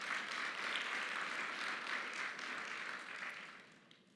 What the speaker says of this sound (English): I heard people clapping